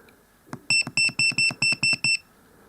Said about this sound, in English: Obviously you can turn the beeper off